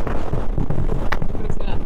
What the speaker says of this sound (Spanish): Voy con la moto totalmente torcida por el viento.